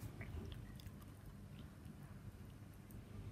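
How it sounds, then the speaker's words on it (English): A dog chomps on a chew toy and an old sock in a quiet room, faint, wet, irregular chewing and biting sounds repeating steadily at a distance. "In case you could hear some chomping, Smudge the Yarn dog is over there with a Ch"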